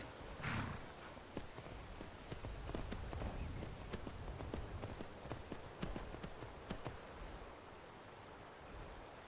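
Steady clip-clopping horse hooves trotting along in the video game Skyrim, moderately close, with a faint insect-like chirping hum in the background.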